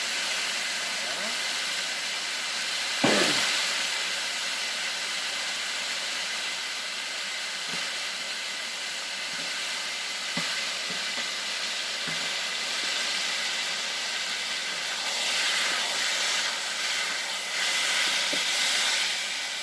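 Poultry strips sizzle steadily in a pan on an induction hob, a constant close hiss with a few small pops and clicks scattered throughout.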